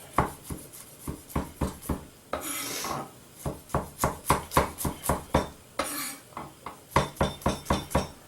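A knife slices garlic into thin slivers on a board, a brisk run of crisp, evenly spaced cuts in quick bursts, close and clear with a couple of brief scraping pauses.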